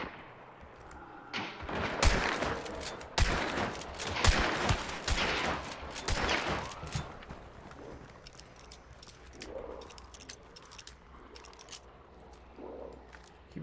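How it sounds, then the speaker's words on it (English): Rapid bursts of gunfire from another player in a video game hunting match near a swamp with a raised area, loud crackling volleys clustered early then trailing into sparse distant shots. "He was shooting at another goddamn player."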